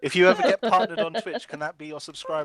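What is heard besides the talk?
None of the usual background noises is heard.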